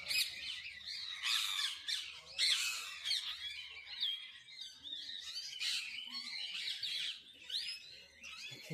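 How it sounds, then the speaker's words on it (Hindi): Several parrots squawk and screech over one another in a continuous noisy chorus of harsh, shrill calls nearby, at Kanpur Zoo, India. "कई सारे तोते यहाँ पर बैठे हुए हैं।"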